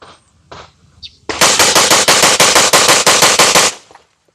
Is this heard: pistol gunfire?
yes